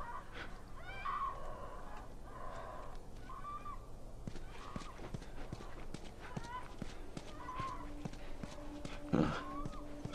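Horse in The Last of Us, on the University chapter, stands and shifts with irregular hoof clops on hard ground, moderately near, with a louder snort or stamp near the end over a low ambient hum.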